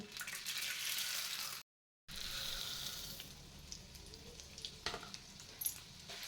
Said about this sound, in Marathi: आता मी इथे एक वाटी हरभऱ्याची डाळ घेतली आहे ही डाळ या तुपामध्ये घालून घ्यायची आहे